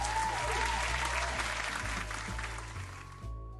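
Steady applause in Final Fantasy XIV, bright and continuous, over a low sustained musical drone, thinning slightly toward the end.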